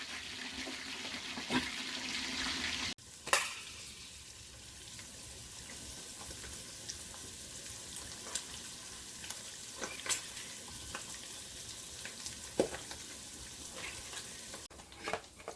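Meat frying in hot oil in a pot for egusi soup, a steady close sizzle running throughout with occasional clinks and pops, no talking.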